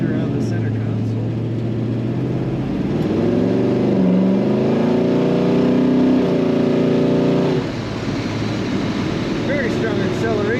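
A red 1969 Chevrolet Chevelle SS 396 with an automatic transmission accelerates hard, its engine note rising steadily through a gear shift before settling, loud and close, with a voice talking over it.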